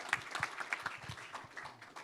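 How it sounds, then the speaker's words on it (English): Faint, thin applause from a small audience at a faith and enterprise panel event, a few scattered hand claps sounding distant and sparse, fading toward the end. "Can I get a round of applause for Cancerina?"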